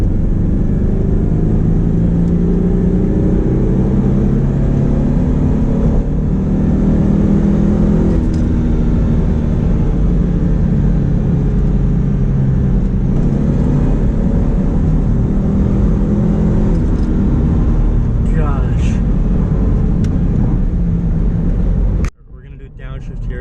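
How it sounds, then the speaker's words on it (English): A 2000 Ford Mustang V6 accelerates in second gear, heard from the cabin as a loud, steady engine drone that slowly climbs in pitch before cutting off abruptly near the end. "so we got it in second gear, the lockout, so I'm gonna mat it here, slowly rolling into it."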